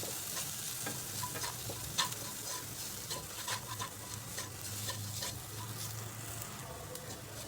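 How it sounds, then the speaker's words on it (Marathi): Gram flour roasting in a pan while being stirred, giving a continuous close sizzle with irregular scraping and tapping strokes of the spoon throughout. "त्यामध्ये एक चमचा बेसन पीठ आणि हे छान परतून घ्यायचे"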